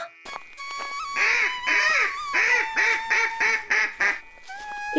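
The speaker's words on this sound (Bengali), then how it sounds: "মা, হাঁসগুলোকে নিয়ে আসো তো।" Cartoon ducks quack in a rapid run of about eight nasal calls, loud and close, over a steady musical tone in a Bengali fairy-tale animation.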